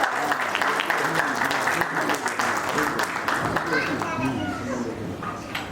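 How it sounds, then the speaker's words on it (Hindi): Audience applause at a JCI award function welcoming an oath officer, steady crowd clapping mixed with children's voices and murmuring chatter throughout. "और जोरदार तालियों के साथ हमारे शपथ अधिकारी का स्वागत करें"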